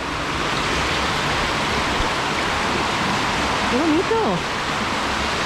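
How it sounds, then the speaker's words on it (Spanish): A waterfall near Hallstatt, Austria, gives off a steady, loud, even roar of rushing water throughout, while a woman briefly exclaims over it. "vamos a ir para allá a ver si encuentro la cascada"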